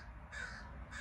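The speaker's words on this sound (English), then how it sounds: "That crow in the background." A crow caws twice in the background, each call a harsh drawn-out note, steady and moderately distant against a low ambient hum.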